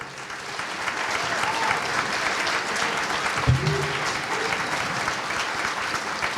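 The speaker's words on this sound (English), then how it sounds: "Can we hear it for Doug Marshall one more time" Audience applause at a gala event fills the whole stretch as a steady, dense wash of clapping from a large crowd, with a brief louder thump midway and no speech over it.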